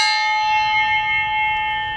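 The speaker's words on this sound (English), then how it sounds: "Minecraft swords in real life sound extremely cool when you whack them with a railroad spike. They actually sound like a full wind chime." A steel Minecraft-style sword replica rings out after being struck with a railroad spike, a bright sustained metallic tone like a wind chime that rings alone and slowly decays.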